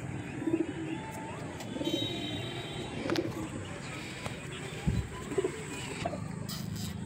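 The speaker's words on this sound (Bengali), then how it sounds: "এইটা হচ্ছে মাদা পায়রা।" A female pigeon of the Madrasi breed coos in low, soft repeated phrases, several short bursts spread across the clip against a busy background of other birds and faint room noise.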